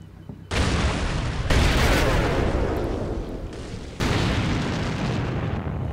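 Anti-tank guided missile strikes a Bradley fighting vehicle in a Black Sea military video game, a sudden loud blast opening into a sustained roaring rumble, with a second heavy boom hitting near the end.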